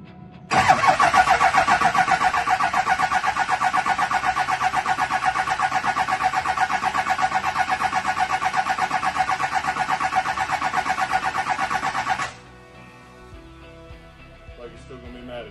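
A 2002 2500HD Duramax diesel with diesel in the oil and an injector return line fault cranks for about twelve seconds, a loud rapid rhythmic starter chug that never catches before stopping, leaving a quiet background.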